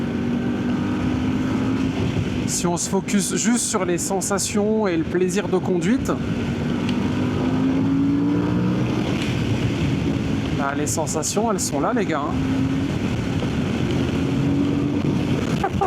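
Voge DS800X Rally adventure motorcycle engine droning steadily while riding, rising and falling in pitch under wind rush, with someone talking over it throughout.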